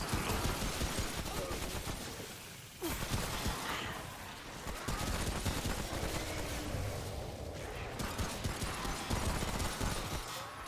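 Rapid gunfire from the video game Remnant: From the Ashes, loud dense bursts of shots running almost nonstop with brief gaps, close and harsh.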